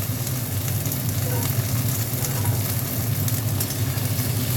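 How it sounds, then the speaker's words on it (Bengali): Okra and onion fry together in a hot pan with a dense, loud, continuous sizzle that holds steady throughout, with no talk over it. "দিয়ে একসাথে ভেজে নেবো ঢ্যাঁড়স আর পেঁয়াজটা।"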